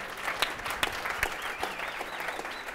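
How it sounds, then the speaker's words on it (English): A live podcast audience applauds, giving a short burst of dense, mid-level clapping with a few sharper claps standing out. "Give him a round of thank you. applause for that one"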